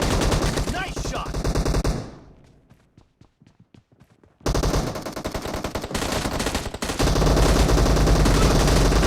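Rapid automatic gunfire from the battle royale game PUBG, loud bursts of repeated shots with a brief lull of separate cracks before heavy firing resumes and continues to the end.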